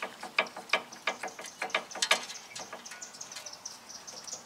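A failed, dry universal joint on a 2018 Jeep Wrangler Unlimited Sport front axle gives off a series of light, irregular metallic clicks and ticks, close and fairly quiet, with no voices.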